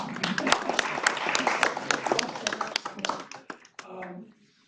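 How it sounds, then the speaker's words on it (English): Applause breaks out from a lecture audience at a talk on free markets, dense clapping and taps under a voice, thinning out toward the end. "So a cheer for"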